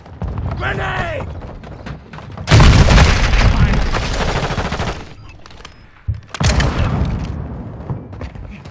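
Modern Warfare 2 hardpoint match on PS5: a heavy grenade blast bursts out, then rapid gunfire and a second loud burst of shots, close and harsh, with brief in-game voice callouts.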